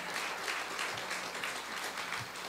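Church congregation applauding during a Sunday service, a dense, steady wash of many hands clapping that holds at an even level throughout, with no talk over it.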